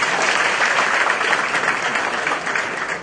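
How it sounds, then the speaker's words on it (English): Audience applause at a college entrepreneurship event in Mumbai, a dense, steady clapping from a crowd that fills the whole moment without a break. "Can we clap?"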